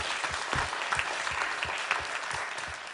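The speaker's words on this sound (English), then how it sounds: "if we can give them one final round of applause" A final round of applause for five speakers at an evening live event, a continuous wash of many hands clapping at even loudness, fairly distant and with no talking.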